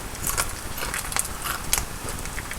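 Someone bites and chews crispy fried bacon close up, giving a few sharp crunches and crackles over roughly two seconds with no talking.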